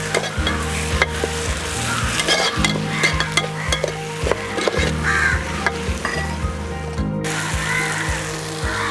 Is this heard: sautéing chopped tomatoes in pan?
yes